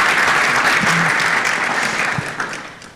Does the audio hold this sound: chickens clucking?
no